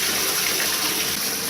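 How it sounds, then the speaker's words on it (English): A tap pours lukewarm water steadily into a filling bathtub, loud and close, a continuous broadband rush with no pauses, while the parts of a trombone are prepared for washing. "while the tub is filling up"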